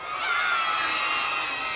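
Crowd of adults and children cheering and shouting together at the Dover Christmas lights switch-on in 2014, a loud, steady wash of voices that swells in at the start and holds.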